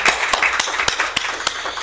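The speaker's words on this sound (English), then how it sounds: "I would say we have a clap now" Audience at a panel on social memories of war applauds, a steady patter of many hands with a few sharp individual claps standing out, close and moderately loud.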